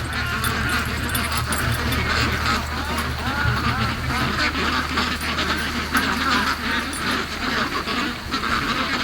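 Free-range ducks quacking down at a lake, a dense chorus of overlapping quacks and honks heard steadily at moderate distance over constant outdoor background noise.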